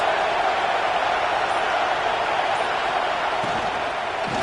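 A stadium crowd at a football game roars steadily behind the defense on a big third down, a dense, continuous wall of cheering noise that holds loud throughout.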